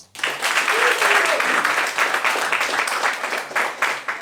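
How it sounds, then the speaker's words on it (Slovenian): An audience applauding at a roast battle comedy event, with a dense and steady burst of clapping that fills the room and lasts about four seconds. "Ok, solidna prva runda Andrića, dajmo aplavz!"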